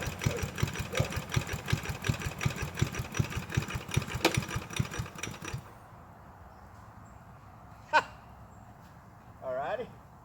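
A 1974 Big Hoss riding tractor's 8hp Briggs engine chugs close by in a steady, pulsing rhythm for about five seconds, then cuts out, leaving quiet with a couple of brief noises.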